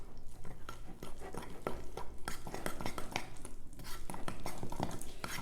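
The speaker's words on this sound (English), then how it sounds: "We're going to mix this up" Mug-cake batter stirred briskly in a mug with a utensil, a rapid run of close clinking and scraping taps that repeats continuously without any voice over it.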